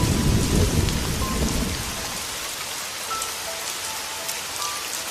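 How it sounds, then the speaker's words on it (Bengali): Steady heavy rain pours down with a deep rumble of thunder rolling at the start, fading into a constant hiss of falling water. "আকাশটা কালো হয়ে মুষলধারায় বৃষ্টি শুরু হলো"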